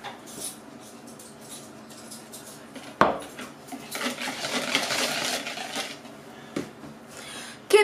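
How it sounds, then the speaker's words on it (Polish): A spoon or whisk stirs cream in a dish for a coffee-walnut babka, giving soft scraping and clinking of utensil against the bowl, with a sharper knock near the middle and another at the end. "I mieszamy tak, żeby śmietanka czasami nam nie osiadła na samym dole naczynia."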